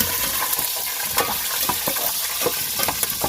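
Curry leaves crackle and sizzle in hot oil while cobia fish is being cooked, a steady close frying hiss punctuated by scattered pops and stirring clinks, with no talking.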